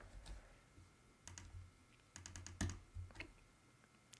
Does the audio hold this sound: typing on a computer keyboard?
yes